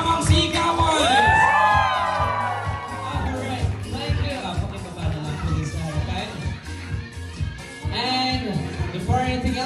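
A crowd at a 50th birthday celebration breaks into cheering, whoops and shouting, with a high rising yell near the start, then keeps up a loud, lively clamour mixed with voices.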